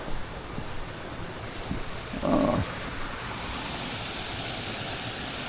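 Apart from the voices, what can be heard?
small waterfall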